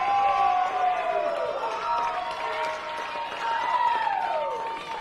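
Crowd at a high school softball game, Sheldon fans, cheers and applauds steadily after a two-run home run, with an announcer talking over the noise throughout.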